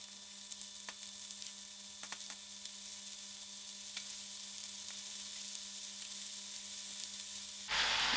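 Spinach and herbs cooking in a pan give a faint, steady sizzle, a quiet hissing bed with occasional small crackles and a low hum underneath.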